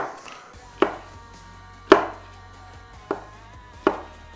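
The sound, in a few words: knife chopping a pepper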